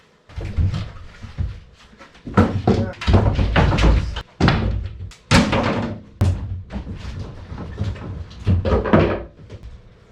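Interior panels are pulled out of a wooden boat under restoration, giving loud, close knocks, thuds and wooden clunks in irregular bursts, with handling noise in between.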